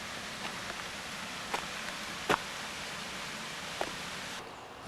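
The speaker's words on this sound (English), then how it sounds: "Down there we have our creek." A creek flows below a hillside near Srebrenica, giving a steady, even rush of water that fills the whole clip, with a few faint clicks over it and the sound dropping slightly at the very end.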